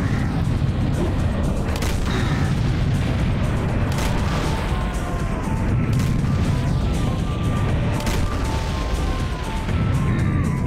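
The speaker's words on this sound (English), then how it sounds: "Some cannons. Cannonballs." Booming cannon fire and crashing cannonball impacts from SSHD: TSE, a survival game set in South America, thump repeatedly amid a busy, rumbling battle din with no talking.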